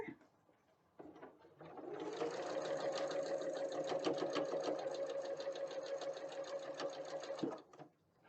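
A sewing machine runs steadily for about six seconds, stitching fabric strips right sides together for a string-pieced quilt, with a quarter-inch seam. The hum builds from a brief start and stops abruptly near the end, alone and close.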